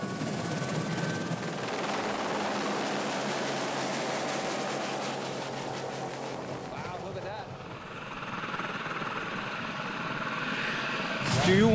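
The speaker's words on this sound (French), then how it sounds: "Le seul moyen d'accéder ici, c'est l'hélicoptère." A helicopter flies to a mountain ski spot that has no lifts, its loud, steady rotor and engine roar continuing throughout and swelling slightly near the end.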